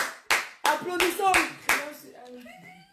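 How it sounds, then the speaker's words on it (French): A small group claps in several short, sharp bursts over a few seconds for a new office head being honored, with a voice chattering near the end. "Applaudissons."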